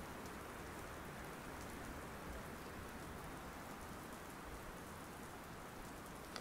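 Light drizzle falls in a faint, even hiss of fine rain, a soft continuous patter that stays low and steady with no voices.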